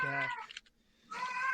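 A nearby cat gives two drawn-out, tonal meows separated by a short pause, loud and clear with no talk over them.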